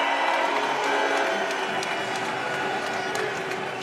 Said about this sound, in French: la foule du Colisée de Laval qui va applaudir le nouveau venu